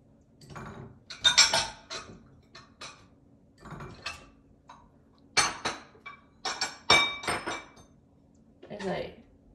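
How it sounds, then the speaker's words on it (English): Glass and dishes clink and rattle in a kitchen cupboard while someone fetches a glass Pyrex mug, several bursts of clattering spread over a few seconds with a voice speaking between them. "As I make all those noise and racket, getting the glass mug."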